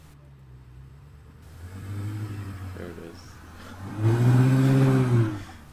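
A Ferrari engine revs and pulls away down the street, rising then swelling louder, with people talking briefly over it.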